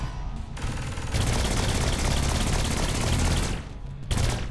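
Dense, continuous gunfire from Saints Row 4 roars for several seconds, a loud sustained fusillade of rapid automatic shots with brief dips at the start and near the end.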